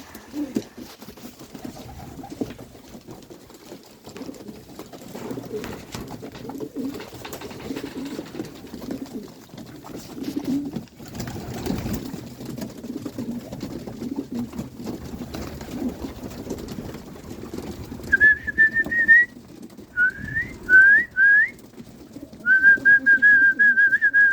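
Many pigeons coo in a low, murmuring chorus nearby, with a few high whistles breaking in toward the end.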